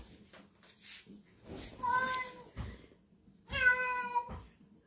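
A cat that came home after being lost for 16 days meows up close, two drawn-out, wavering cries with softer chirps and small noises between them in a quiet room.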